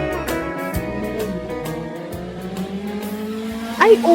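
Speeding motor engines whine and rise in pitch over steady road noise, with a louder burst near the end.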